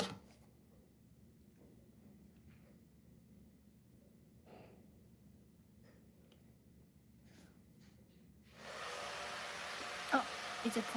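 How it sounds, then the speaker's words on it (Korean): A hair dryer switches on partway through and blows with a steady, loud whooshing hum after a quiet stretch with faint breathing sounds. "이제 드라이기 소리 들린다."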